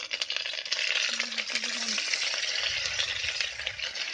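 Ground ginger, cumin and chili paste fry in oil in a pan, making a loud, dense sizzle with stirring, steady and close, with no talk.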